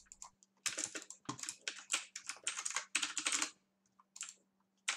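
Computer keyboard being smashed and hammered in frustration during a game, a run of loud, irregular clattering bursts of keys and impacts with short pauses, then a few isolated taps near the end.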